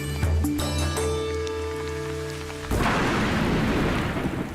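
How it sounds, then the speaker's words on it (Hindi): Steady drizzle of rain falling over farm soil, a dense rushing hiss that begins abruptly about halfway through, replacing sustained musical tones; no distinct thunderclap stands out. "बारिश की रिमझिम फुहारों को ही लीजिए।"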